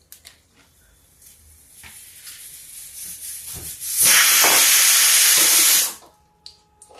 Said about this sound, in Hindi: तो आज इनको देखते हैं फ्राई करके कि कैसे बने हैं।